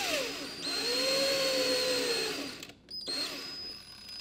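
A power drill bores a pilot hole into the underside of a table for mounting a gun magnet, a steady whirring whine with rising and falling pitch that cuts out briefly near the end before resuming, close and fairly loud.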